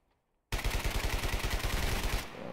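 Rapid automatic fire from a UMP 45 submachine gun in the online shooter Survarium, a loud, steady burst of closely spaced shots lasting about two seconds before cutting off.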